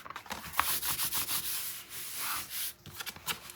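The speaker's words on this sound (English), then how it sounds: "I can burnish this down." Paper is burnished down along the spine of a 9 x 9 mini album with a tool, giving repeated close, scratchy rubbing strokes in uneven bursts with short pauses.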